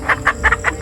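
Chickens cluck close by in a quick run of five short, rhythmic calls, loud and alone, with no talk over them.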